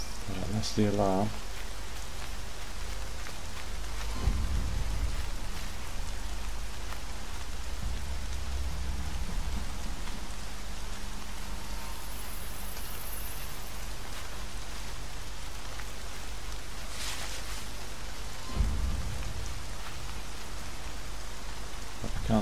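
Steady rain pours down in the video game Horizon Zero Dawn, a dense continuous hiss throughout with a couple of low rumbling thuds that suggest distant thunder.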